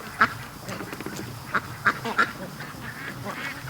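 Ducks quack in a yard, several short, fairly close calls in a loose irregular series over low outdoor background noise.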